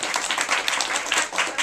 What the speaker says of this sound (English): we need a round of applause to get started